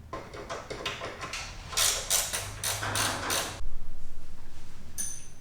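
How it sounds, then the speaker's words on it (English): 10mm bolts being loosened and removed from the battery clamp of a 2019 Kawasaki motorcycle, with a series of close ratcheting clicks, metallic creaks and handling noises, then a quick rhythmic buzzing rattle at the end. "So I'm going to pull those off, remove the battery, and hopefully have access to that relay to swap it out."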